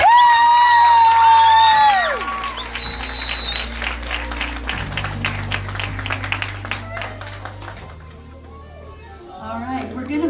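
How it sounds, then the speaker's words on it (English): A pageant audience breaks into applause and cheering for the contestants, a sustained wash of clapping with whoops that swells after a brief announcer's voice and then gradually thins out over about ten seconds. "for everybody give all of them just the biggest round of applause."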